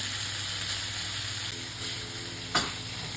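Pork marinated with sesame oil, salt and white sesame seeds is stir-fried over high heat, making a steady, loud, close sizzle throughout, with one brief utensil clatter near the end and no voices.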